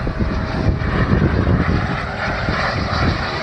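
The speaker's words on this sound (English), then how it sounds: "We have a nice little landing coming in." A private jet comes in to land at San Jose airport, its steady engine roar loud and continuous throughout with no talk over it.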